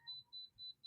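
A kitchen timer beeps near the waffle maker during breakfast cooking, sounding a quiet run of four evenly spaced, high, steady electronic tones with brief gaps and a low kitchen hum beneath.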